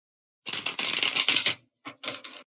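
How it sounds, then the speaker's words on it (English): Rapid papery riffling of tarot cards being shuffled, one long burst followed by two short quick flurries, close by. "I'm just going to give it one more shuffle"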